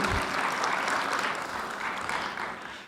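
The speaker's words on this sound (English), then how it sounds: "So please, not too late to applaud this wonderful lady" An audience applauding a woman at a film and TV market event, a steady, even wash of many hands clapping at moderate loudness for three seconds, easing slightly at the end.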